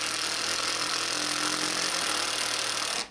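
A power screwdriver drives screws into wooden pieces while assembling a wall-mounted bike rack, giving a steady, close whirring drone with no pauses for about three seconds before it cuts off.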